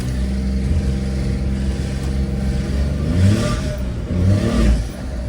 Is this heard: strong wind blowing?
no